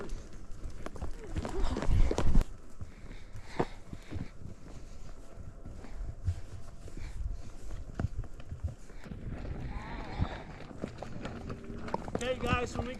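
Horses walk along a trail during a guided family horseback ride, their hooves making a steady, fairly close clip-clop with a louder burst early on, while voices murmur faintly in the background.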